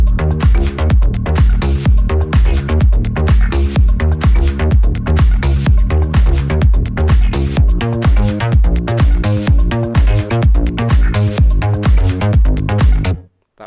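Punchy electronic drums in a remix, with a steady four-on-the-floor kick and crisp percussive hits repeating loudly and evenly for several bars before stopping abruptly.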